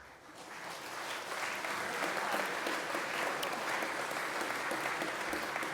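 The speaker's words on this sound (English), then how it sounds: "I guess you have to clap for that" An audience claps steadily for a medalist at a school headmaster's gathering, a dense, sustained round of applause that swells in the first second and holds evenly to the end, with no voices standing out.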